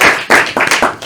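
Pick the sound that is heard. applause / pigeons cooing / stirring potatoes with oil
applause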